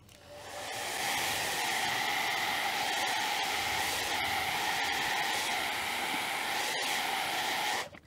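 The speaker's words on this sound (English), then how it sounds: "So I am going to go ahead and blow dry," A hair dryer blows on the freshly painted base coat of a wood sign. It starts up after a moment as a loud, steady airy roar that holds evenly, then cuts off abruptly at the end.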